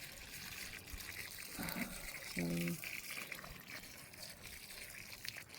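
Water trickling and splashing onto newly planted courgettes and climbing beans in sandy allotment soil on a hot day, a soft, intermittent pour with a brief spoken word.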